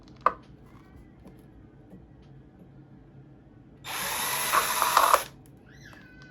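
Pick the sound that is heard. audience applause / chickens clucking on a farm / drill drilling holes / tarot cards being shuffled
drill drilling holes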